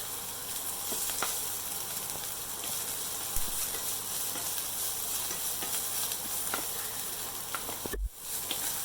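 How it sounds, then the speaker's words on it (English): Onions frying in hot oil with red chili paste, giving a steady close sizzle and hiss that runs unbroken and ends in a brief clatter near the end. "Now I'm going to add our onions. Fry it well."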